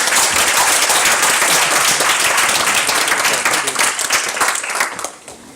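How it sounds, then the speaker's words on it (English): Loud, dense applause from a conference audience welcoming a keynote speaker on money and modern Thailand, sustained clapping close at hand that thins and fades out near the end. "Please give him a round of applause"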